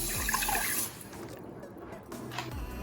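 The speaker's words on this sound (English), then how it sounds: "We're then going to be putting in 4 cups of water," Four cups of water splash and pour steadily into a pot for a few seconds, with a brief trickle toward the end.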